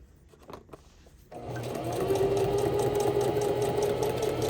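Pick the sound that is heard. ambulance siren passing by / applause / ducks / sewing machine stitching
sewing machine stitching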